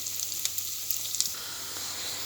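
Greens tipped onto fried minced meat in melted fat hiss and sizzle steadily in the pan, a faint continuous crackle with a few soft clicks of stirring, close by and with no talk.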